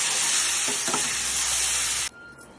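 Soaked flattened rice (aval) is stirred into fried onions in a pan while making aval kozhukattai. A dense, steady sizzle with light scraping stirs runs close up, then cuts off abruptly near the end.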